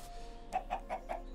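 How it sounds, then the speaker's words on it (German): A chicken in the Minecraft RLCraft game gives four short, evenly spaced clucks at moderate volume against a faint background, with no talking. "Brave Hühnchen, wenn ihr Eier legt, seid ihr brav."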